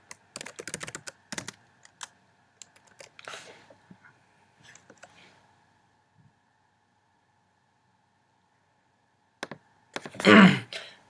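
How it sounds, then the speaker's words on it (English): Bursts of clicky keyboard typing, quick keystrokes in short runs separated by pauses, close and fairly quiet, ending with a breathy exhale. "So keep typing this."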